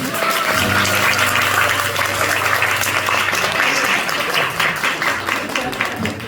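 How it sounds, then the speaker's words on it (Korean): A theater audience applauds loudly and continuously at a musical's curtain call, a dense roar of many hands clapping that fills the room, with a sustained low tone underneath. "박수 한번 주세요."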